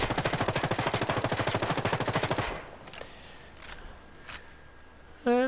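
A rapid, steady burst of full-auto fire from the Echelon SMG in Ghost Recon Breakpoint, loud and close, lasting a couple of seconds before cutting off into quiet with a few faint clicks.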